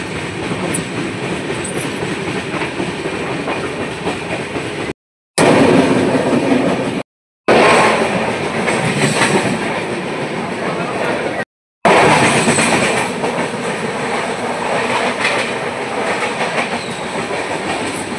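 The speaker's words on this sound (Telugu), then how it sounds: "ట్రైన్ ఆగితే బాగుండని అనుకున్నా, కానీ ట్రైన్ ఆగలేదు" A moving train rattles along the tracks with a continuous clickety-clack of wheels and a rumbling carriage, heard from inside at close range, broken by a few brief silent cuts.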